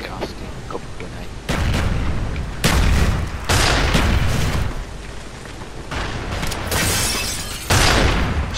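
Grenade blasts and gunfire boom in a Call of Duty: Black Ops search-and-destroy match, with several loud heavy explosions and crackling debris following one another over a continuous battle din.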